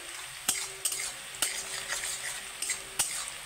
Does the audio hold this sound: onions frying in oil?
yes